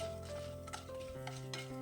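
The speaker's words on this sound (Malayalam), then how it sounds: "ഇനി കുറഞ്ഞ തീയിൽ തന്നെ പരിപ്പ് നല്ലവണ്ണം മൂപ്പിച്ചെടുക്കണം" Soft scraping stirs lentils roasting in a pan over low heat, with a few light clicks of a spoon, over a low steady hum and faint sizzling.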